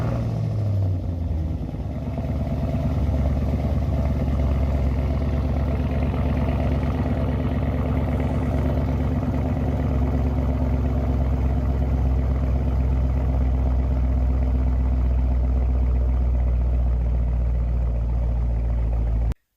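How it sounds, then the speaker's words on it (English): A muscle car with straight pipes cold-starts and settles into a loud, steady, rumbling idle, with the low exhaust drone running close and unbroken throughout and no voices. "we're going to see just how loud this cold start is"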